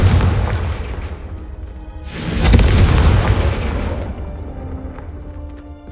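A Confringo fire spell in Hogwarts Legacy bursts into a loud, deep explosive boom that swells midway and rumbles away slowly.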